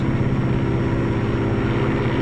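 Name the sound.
Lockheed P-38 fighter aircraft engine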